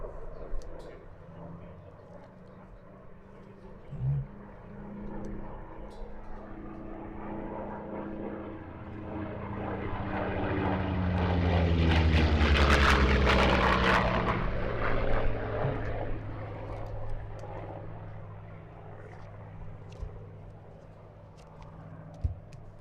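A propeller aircraft at the Apple Valley air show approaches from a distant drone, swells into a loud roaring pass midway, then fades away again.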